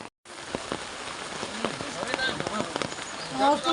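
Rain falls steadily in a monsoon downpour, a dense patter of drops striking a surface, close and constant, with a brief gap at the very start.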